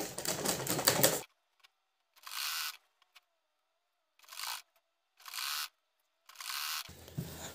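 A sewing machine stitches a salwar hem in a series of short bursts, about five quick clattering runs separated by near silence, with one longer run at the start and another at the end.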